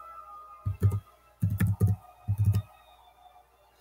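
Typing on a computer keyboard during a Nitro Type race, three quick clusters of close, crisp key clicks separated by short pauses, with no talk.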